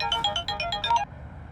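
A phone ringtone for an incoming call in the middle of the night plays a quick, bright, repeating electronic melody of short beeping notes, moderately loud, then cuts off abruptly with quiet room tone left behind.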